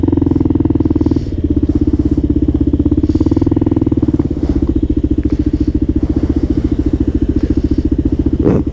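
Kawasaki KLR650 dual sport motorcycle idling steadily while warming up after being covered in snow, a loud continuous single-cylinder thump close by, with a few faint clatters over the top and no talk.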